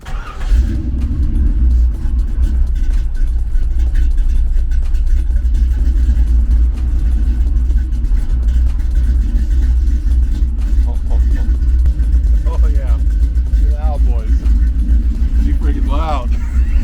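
A car engine with newly installed stainless tri-Y headers, on its first start, runs steadily with a loud, deep rumble and a rough idle throughout, with voices faintly audible over it near the end.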